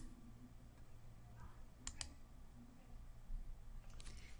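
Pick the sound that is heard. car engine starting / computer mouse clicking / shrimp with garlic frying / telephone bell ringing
computer mouse clicking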